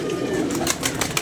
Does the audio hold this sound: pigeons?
yes